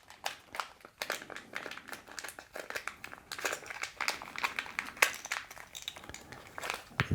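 Plastic crinkles and rustles up close in irregular bursts as a bag is handled and opened, with occasional sharper crackles and no talking.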